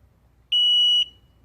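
A single loud, steady electronic beep of about half a second sounds from a Hansshow power trunk fitted to a Tesla Model 3, alone against a quiet background.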